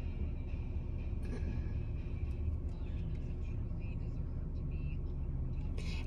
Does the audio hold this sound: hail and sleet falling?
no